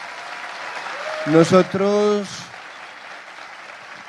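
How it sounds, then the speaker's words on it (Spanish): Audience applause at a live event honoring a group of illustrators, a short burst of clapping rising briefly in the middle of the clip while a host speaks over it. "denle un aplauso más"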